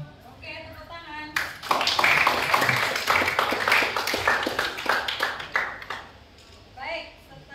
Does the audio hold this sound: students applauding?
yes